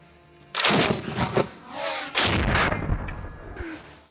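A Soviet KPV 14.5mm heavy machine gun fires outdoors in two loud, booming bursts with a rolling echo trailing after each, and no speech.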